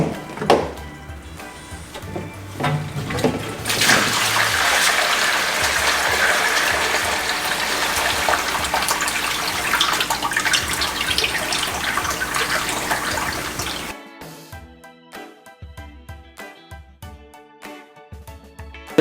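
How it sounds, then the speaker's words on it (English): A hose siphons dirty water and sand out of an aquarium, producing a loud, continuous gushing rush that cuts off abruptly, leaving faint sputtering and dripping. "Now let's start siphoning."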